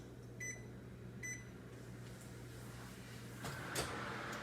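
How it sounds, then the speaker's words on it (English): A peach cobbler with biscuits goes into an oven set near 350: two short electronic beeps, a steady low hum, then the clunk and rattle of the oven door and rack, quiet and close. "now we're going to stick this in the oven on about 350"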